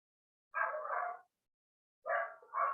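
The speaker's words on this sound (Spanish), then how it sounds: "hay ruido de perros, no sé si se alcanza a escuchar el ruido" Dogs nearby give two separate bursts of barking with a quiet pause between them. The barks are moderately loud and heard without any talk over them.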